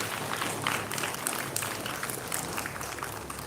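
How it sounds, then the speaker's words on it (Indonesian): A crowd at a flag ceremony applauds the choir, producing a steady, fairly faint wash of clapping that lasts the whole stretch and has no speech over it. "Berikan tepuk tangan untuk paduan suara."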